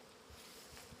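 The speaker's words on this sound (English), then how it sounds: "The honey bees are just busy doing their stuff." Honey bees buzz steadily at a hive, a soft, continuous hum with no voices, staying even and low in level for the whole short stretch.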